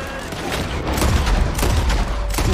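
Pistol gunfire in Red Dead Redemption 2 on Guarma island: dense, rapid bursts of game shots rolling together at steady, loud volume for the whole stretch, with little space between reports.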